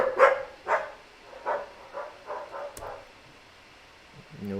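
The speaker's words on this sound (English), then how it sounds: "When they all get barking like that, that sounds like there's 37 of them." Several poodles bark in a loose burst, the sharp yaps clustered early and then thinning into scattered, fainter barks at a moderate distance, with no talk over them.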